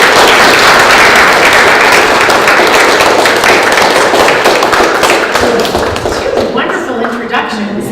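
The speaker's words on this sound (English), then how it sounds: "would you give her a great round of applause and welcome?" An audience at a lecture on spiritual revolution gives a loud, full round of applause to welcome the speaker, thick continuous clapping that thins and softens slightly toward the end.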